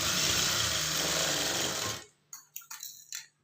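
A sewing machine stitches a blouse in one loud continuous whirring run for about two seconds, then stops, followed by a few short clicks and rattles of handling.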